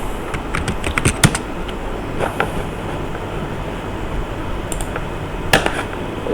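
Clicky keystrokes on a computer keyboard come in quick bursts, then thin out to a few scattered taps over a steady background hiss.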